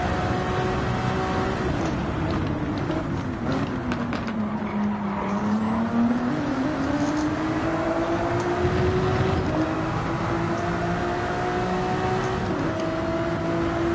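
GT3 race cars, including a Ferrari, dice closely in Gran Turismo 7: loud, continuous engine roar with pitch rising and falling through gear changes, plus several engines overlapping and faint tire noise.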